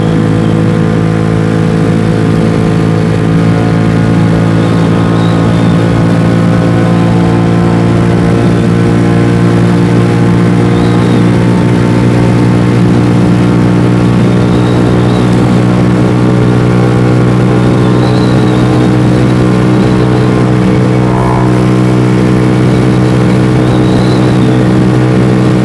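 A Venom X18 motorcycle engine drones loud and steady while riding, with a sustained hum and mild rises in revs throughout and no talking.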